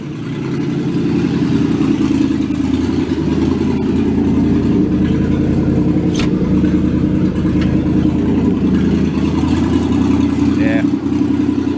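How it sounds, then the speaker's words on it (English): A 1966 Ford Galaxie V8 in poor condition runs steadily close up, its low engine drone holding a constant loud level for the whole stretch without clear rev swells, while a voice briefly speaks over it. "Let's rev it a little bit."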